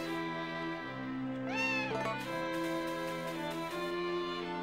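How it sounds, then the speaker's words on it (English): A cat meows once in the farming video game Harvest Moon: Another Wonderful Life, a clear rising and falling cry heard over steady game music and ambience. "Oh, it's a cat."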